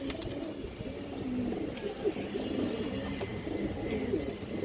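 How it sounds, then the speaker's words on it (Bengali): A female pigeon of Bagha style and racing line, kept on a farm, coos in low repeated rolling phrases at close range, soft and continuous against a quiet background without speech. "একটা খুব সুন্দর মাদি কবুতর আছে মাশাআল্লাহ, এই দেখেন"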